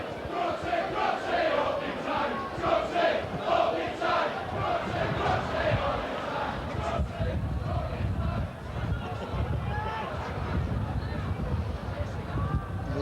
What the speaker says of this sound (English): Lee Cook's getting the bird from some of the Leeds crowd